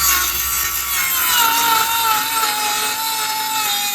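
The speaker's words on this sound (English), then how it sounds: "All right, so we got our plywood cut." Plywood sheet being cut with a power saw, a steady, loud, high-pitched whine with blade grinding running continuously at close range, with no talking.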